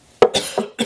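A short burst of coughing, three or four quick dry hacks close to the microphone.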